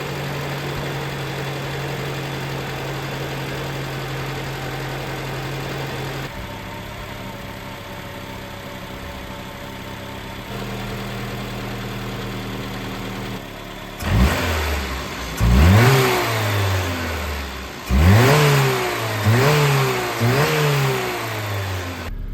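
A warm carburetted Peugeot 305 Turbo engine, restarted after ten years, idles steadily, then is revved several times in sharp bursts that rise and fall back to idle.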